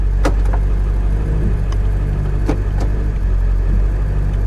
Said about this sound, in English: let's make sure it shifts fine